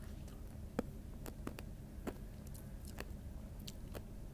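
Someone crunching Wonka Nerds candy, tiny hard sugar pellets, with a few sharp, close bites and crunches spaced irregularly over a quiet background.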